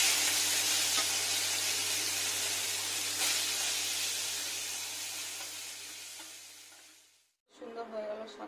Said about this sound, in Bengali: যাতে করে সরষে খাবো, ফোড়নটা ফুটে যায়।